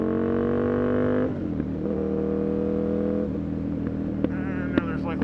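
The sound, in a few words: Aprilia RSV 1000 R Factory motorcycle engine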